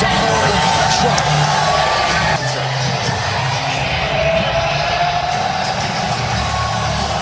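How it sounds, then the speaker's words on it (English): A packed UFC arena crowd roars as President-elect Donald Trump walks in, loud sustained cheering with whoops, yells and shouting layered over clapping, a dense wall of noise throughout. "Huge applause for Trump as he walked into that UFC arena"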